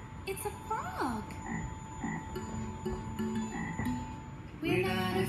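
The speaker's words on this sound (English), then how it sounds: "It's a frog." Repeated frog croaks in a jungle-themed preschool song setting, a run of short throaty calls in quick succession, close and clear with no voices over them.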